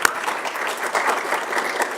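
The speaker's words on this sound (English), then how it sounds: "So let's give yourself a round of applause there" An audience at a privacy and security forum gives itself a round of applause, steady dense clapping at moderate loudness with no voices.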